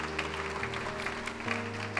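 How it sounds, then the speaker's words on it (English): A church congregation claps along fairly faintly beneath sustained musical tones, the scattered claps blending into a soft, continuous patter. "Give a Lord a big clap."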